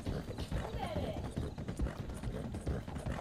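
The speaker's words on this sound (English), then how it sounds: "Oh my god, there's a random horse." Horse hooves clip-clop steadily in Red Dead Redemption 2 gameplay, a continuous thudding gait beneath the game's ambience.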